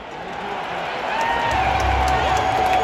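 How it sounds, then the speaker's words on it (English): A playoff hockey crowd in Florida, Panthers against Edmonton, breaking into cheers that swell from a steady murmur into a louder, fuller roar over a few seconds, with a low rumble joining midway. "They're cheering, so it must be Edmonton"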